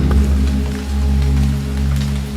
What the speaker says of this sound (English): Even now, the sound of the rain is growing faint.